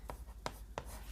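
Pen on paper while writing out a math proof, three quick faint scratching strokes close by, very quiet.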